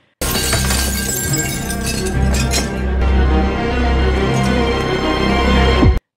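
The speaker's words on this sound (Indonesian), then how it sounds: "Tiba-tiba John memecahkan sebuah kaca yang ternyata ada ruangan tersembunyi di dalamnya" A glass pane smashed in a scene from the film Treadstone: a loud, sustained crash and shatter with clinking debris over a dense, heavy soundtrack lasting several seconds.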